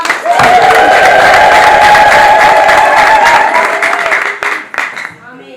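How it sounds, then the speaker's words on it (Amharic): A church congregation ululates and claps together, a loud sustained wave of trilling voices and applause that fades off near the end. "እልልታ ጭብጨባ።"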